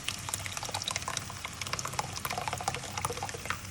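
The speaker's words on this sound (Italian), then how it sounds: "A questo punto metto la salsa di pomodoro." Tomato sauce pours into a cooking pot with a continuous wet, bubbling sloshing sound, close and moderately loud, with no voices.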